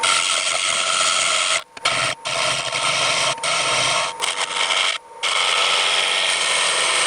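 A gouge hollows the inside of a magnolia wood bowl whose sides are still about an inch thick, making a loud, continuous rasping scrape broken by a few short pauses.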